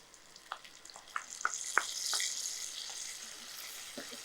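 Ground paste sizzling in a pan with fried onions, a steady frying hiss broken by several sharp scraping strokes of a spoon as it is stirred.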